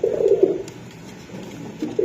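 Pigeons being sold at a market stall, with soft, close, low cooing from the birds in two short bursts separated by a quiet pause.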